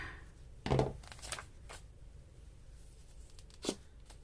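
Paper being trimmed for a collage page, with two short, crisp tearing or cutting bursts, one near the start and one close to the end, separated by a quiet stretch.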